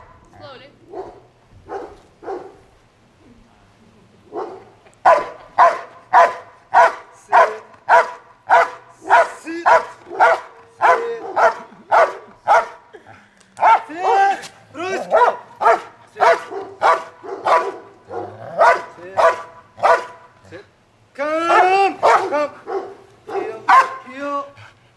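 A dog barks repeatedly in rapid, loud, close bursts, with a quieter opening followed by a long sustained volley and a few whiny yips near the end.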